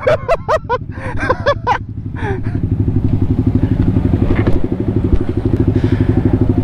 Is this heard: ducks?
no